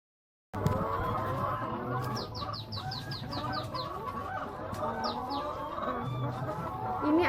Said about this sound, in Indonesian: Ini adalah ayam diguna yang diletakkan di kandang baterai.